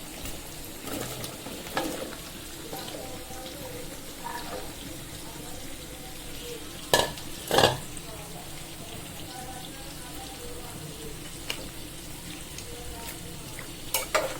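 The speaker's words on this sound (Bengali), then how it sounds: "বরবটি আর আলুর মশলাটা কষে আসার পর আমি এই যে কেটে রাখা বরবটি আর আলুগুলো দিয়ে দিচ্ছি।" Cut yardlong beans and potatoes dropped into spice paste frying in a pan, a steady low sizzle with scattered clatters and stirring knocks, a few sharper bursts, close and moderate.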